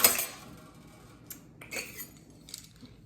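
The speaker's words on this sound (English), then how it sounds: "Next, tongs. Used to pick foods up, flip foods, use it on the grill." Metal kitchen tongs are handled close by: a sharp clatter at the start, then several light metallic clinks and taps spread out over a few seconds with quiet between them.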